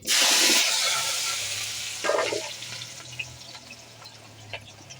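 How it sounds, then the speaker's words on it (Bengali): Potatoes fry in a pan for chicken biryani, giving a loud burst of sizzling at first that settles into a steady, softer hiss with small pops and crackles, close by and with no talking. "আলুটা এখন ভেজে নেবো লাল লাল করে"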